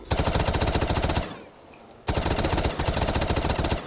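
A minigun firing in Call of Duty Black Ops 3 zombies: two long, loud, rapid bursts of buzzing gunfire separated by a brief pause, with no talk over them.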